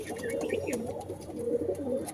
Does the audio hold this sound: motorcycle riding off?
no